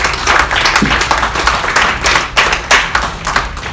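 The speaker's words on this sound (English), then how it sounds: "Give them a round of applause." Audience at a live corporate mentalist show clapping for volunteers, loud close hand claps in uneven bursts that rise and fall, with a few sharper individual claps standing out near the microphone.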